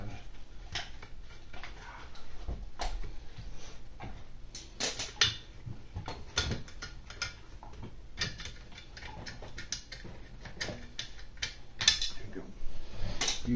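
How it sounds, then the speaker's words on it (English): Quiet, scattered mechanical clicks and ratcheting ticks as screws are worked out of a 1/5 scale 30cc RC buggy frame, irregular and close, with soft background noise throughout. "I got another screw I gotta get out on the other on this side."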